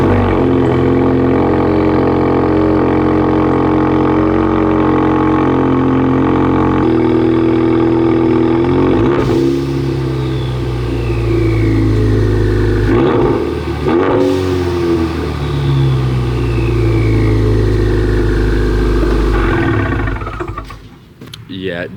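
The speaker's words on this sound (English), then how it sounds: "Really quick, I'll show you a cold start." A modded four-cylinder Ford Mustang engine runs loud and close on a cold start, with a steady low rumbling drone whose pitch shifts midway as the revs change, fading toward the end.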